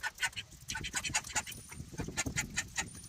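Drake ducks quack in a rapid, raspy, continuous chatter, several birds calling over one another at close range.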